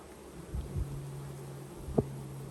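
Honey bees at an apiary hive, a faint low buzz with a couple of brief louder passes of single bees close by, in a quiet outdoor setting.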